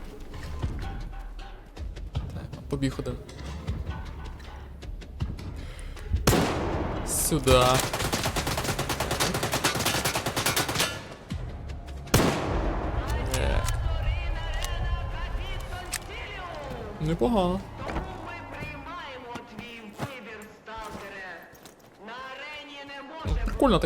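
Rapid bursts of gunfire in S.T.A.L.K.E.R. 2 crackle in volleys with pauses, mixed with clattering effects and a person talking over the action.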